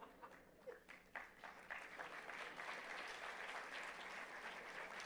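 An audience at an institute's induction and orientation programme breaks into applause for a popular staff member, the clapping building quickly from scattered claps into a dense, steady roar that holds throughout.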